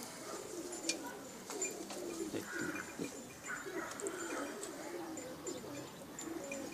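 Pakistani pigeons (kabootar) kept by a breeder give soft, low coos, repeated in gentle rolling bursts against faint background noise.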